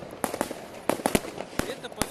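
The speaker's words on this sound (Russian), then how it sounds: "Это повсюду, всюду, всюду все взрывается. Везде одни салюты." Fireworks and firecrackers going off on New Year's Eve in Germany, a series of sharp, scattered bangs and cracks at varying distances, some close and loud, others fainter, over a constant background hiss of the night.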